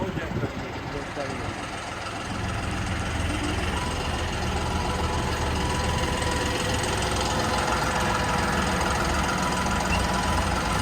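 A CRDI diesel tractor engine idles steadily nearby, a loud low rumble with knocking clatter that holds even throughout.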